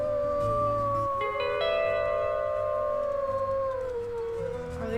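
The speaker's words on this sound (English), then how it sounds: "that howl sounds close" A wolf howls in the video game WolfQuest: Dragon Pack, a long, clear, wavering cry joined by a second, higher voice partway through, sounding close and heard alone without talk.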